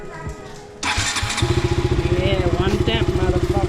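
A KTM Duke 200 motorcycle, under restoration, is cranked and fires up, then settles into a loud, close, rhythmic pulsing idle. A brief voice is heard just before it starts.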